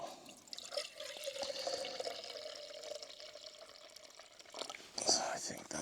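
Water pours from a container at a desert campsite for breakfast and coffee. A thin, trickling stream runs for several seconds, then a brief louder splash comes near the end. Someone speaks faintly in the background.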